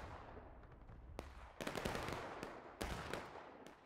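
Musket volleys in the Civil War game War of Rights: several sharp gunshot cracks, one isolated shot followed by two heavier bursts of overlapping fire, amid a constant low battlefield rumble.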